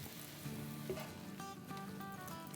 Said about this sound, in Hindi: अब हम 1 मिनट और भून लेंगे ताकि अच्छा सा ये सेट हो जाए